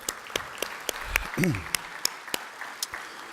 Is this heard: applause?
yes